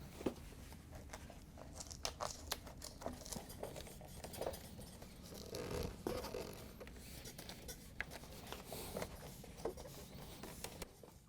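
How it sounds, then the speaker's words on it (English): A plastic freezer door gasket bead on a Whirlpool/KitchenAid/Maytag door is pushed into its channel by hand, giving faint, close, irregular rubbing and crinkling clicks in a quiet room. "we can go around the edges and push the plastic bead into the channel"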